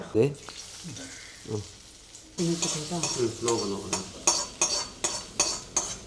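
Onions sautéing in a pan for a Thrissur-style Kerala fish curry, heard as intermittent sizzling and a utensil scraping and stirring in short repeated strokes, fairly close, with a few hard clinks against the pan.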